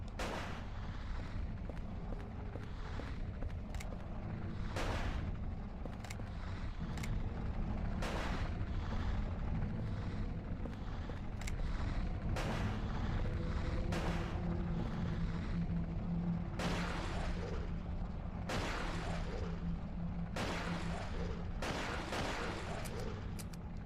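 Gunshots from a gun in Silent Hill 4: The Room ring out as sharp, irregularly spaced cracks over a constant low rumbling background, each shot loud and close.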